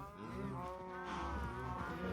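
Cows moo in a Minecraft farm, a run of drawn-out, overlapping bovine calls that sound close and fairly loud, with no talking over them.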